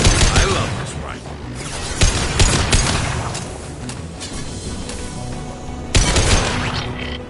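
Rifle fire from Mass Effect Legendary Edition rattles in dense, loud bursts with sharp impacts throughout, easing midway and then flaring again near the end, with voices partly under the gunfire.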